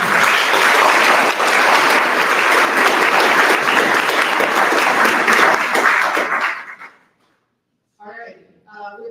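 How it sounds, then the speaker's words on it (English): Loud, dense applause fills a hall at a Damariscotta candidates forum, sustained for about six seconds before cutting off into silence, followed by a short burst of speech. "Please give them a round of applause"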